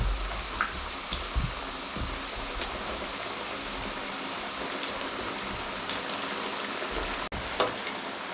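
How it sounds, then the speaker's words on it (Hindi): Chicken lachha pakoras deep-fry in hot oil, a steady dense crackling sizzle running evenly throughout with faint clinks. "ये लीजिए सारे मैं इसी प्रोसेस से गुजार लूँ, इनको फ्राई कर लूँ"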